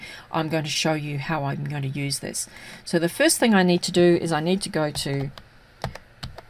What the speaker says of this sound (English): if my keyboard sounds awfully loud, I'm very sorry, because it's right next to the microphone and it's an old clunky keyboard